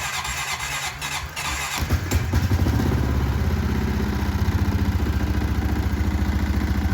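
A 2016 Honda Rancher ATV cold-starts in 0°F weather, with a squealing crank for about two seconds before the engine catches and settles into a close, rapid, pulsing idle.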